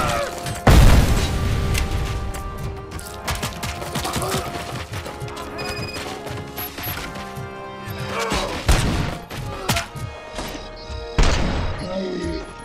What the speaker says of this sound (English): Of course, he throws a goddamn grenade.